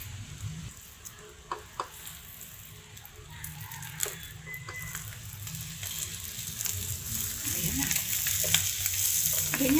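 Egg rolls filled with chicken pastil sizzle steadily in hot oil, a continuous close crackle with scattered pops and a few utensil taps, growing slightly louder toward the end.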